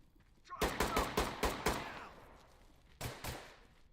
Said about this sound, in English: Who the fuck are you shooting at?